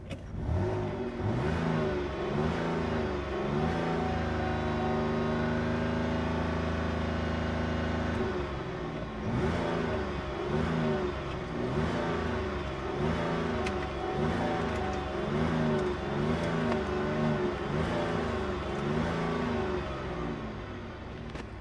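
Engine of a 2011 Cadillac SRX with about 105K miles runs steadily nearby, then gets blipped through a long series of quick, evenly spaced revs that rise and fall in a regular rhythm, loud and clear with no voices.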